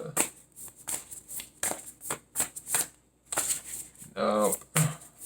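Tarot cards being shuffled in a repeated run of short, crisp riffling bursts with brief pauses, close and fairly loud, with a voice briefly audible near the end.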